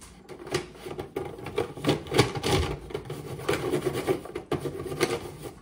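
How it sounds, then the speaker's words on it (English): Crayon or pencil rubs back and forth over paper laid on a household radiator, making a textured rubbing; the scraping strokes come in uneven, close, rasping bursts with no talk. "Now I'm going to try to do a rubbing on my radiator."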